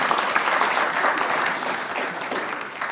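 A crowd at a charity gathering applauds Rotarians, with loud, steady, dense clapping that fills the room and tapers slightly toward the end.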